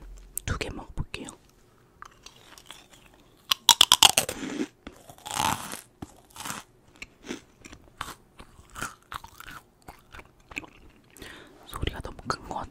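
Crunchy Korean snacks being bitten and chewed close to the mic in an ASMR setting, with loud crisp crunches in irregular bursts and soft whispered talk between bites.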